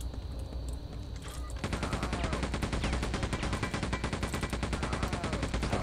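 Sustained rapid machine-gun fire in Quake 2, an evenly paced rattle of shots that kicks in after a quieter stretch and keeps going loud and close to the end.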